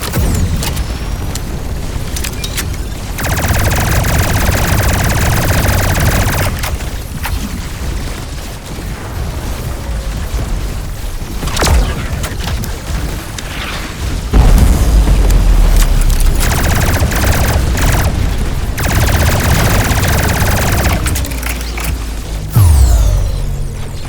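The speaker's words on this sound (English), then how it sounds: "a nice bassy, tactile weapon noises for the variety of guns at your disposal" Bassy, tactile gunfire and booming explosions in the tower defense game TAUR, a dense, loud, continuous barrage of heavy thuds and blasts with deep rumbling impacts throughout.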